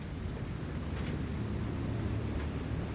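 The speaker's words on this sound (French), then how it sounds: "On a toujours un moteur allumé mais au point mort." A sailboat's engine idles in neutral at sea, giving a steady low rumble mixed with constant wind buffeting. It stays even throughout, with no voices.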